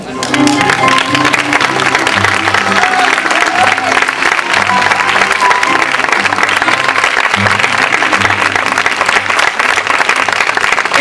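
Audience applause in a theatre at a jota performance by an Aragonese group, a steady loud wash of clapping over sustained music or singing tones.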